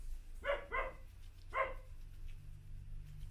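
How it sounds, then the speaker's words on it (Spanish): A dog barks three times, two quick barks then a third after a short pause, moderately near in a quiet room with a low hum underneath. "Hay un perro ladrando."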